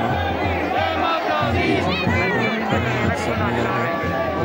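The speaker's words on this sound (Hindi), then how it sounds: "ये जोर से नारे गूंज रहे हैं माता के" At a Nanda Devi Dola religious fair procession, a dense crowd loudly chants slogans for the goddess, a sustained roar of rhythmic shouting voices packed close together with steady chatter underneath.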